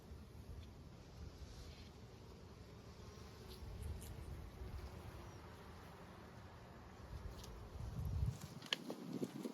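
A steady, dense buzzing hum of honey bees in a hive during a winter inspection on a warm day fills the space continuously, with a few soft knocks and rustles toward the end.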